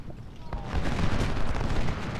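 A rolling musket volley in Ultimate General: Civil War at the Battle of Shiloh, heard as a dense rumble of overlapping shots swelling after a brief crack and sustained to the end.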